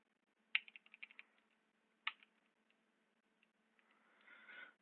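Keys on a computer keyboard tap in a quick cluster, pause, then a few more isolated clicks follow, faint and close in a quiet room before a soft rustle at the end.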